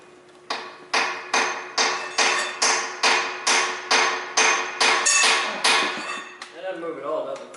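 A hammer strikes a metal bolt in a series of about thirteen loud, evenly spaced ringing blows, each ringing briefly, before a voice begins speaking at the end.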